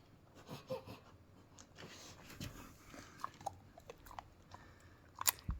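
A dog chews a hard, crunchy treat indoors, with faint, close, irregular crunching and biting sounds spread across a quiet room.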